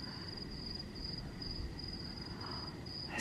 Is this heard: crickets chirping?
yes